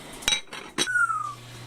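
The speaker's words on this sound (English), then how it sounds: "So there's the pot I'm cooking up for us to eat." A cooking pot being handled on a stove while soup is made, giving a few sharp metallic clanks and knocks followed by a fading ring, close by with no talk.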